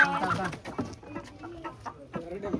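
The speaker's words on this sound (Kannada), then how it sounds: "ಇದು ಹುಂಜ. ಕೆಂಪು ಹುಂಜ, ಇದು ವೈಟ್ ಹುಂಜ" Red and white roosters cluck in short, close bursts, with faint voices in the background.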